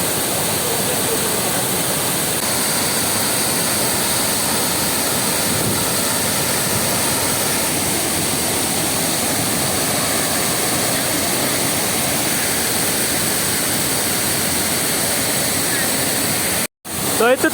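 Hidden Falls waterfall in Luisiana, Laguna, pours in a steady, close broadband roar that fills the scene without letup before cutting out abruptly near the end.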